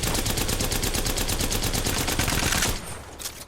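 Rapid automatic gunfire in a shooter video game during aim practice, a fast even stream of shots for nearly three seconds that cuts off abruptly, leaving a couple of faint trailing sounds.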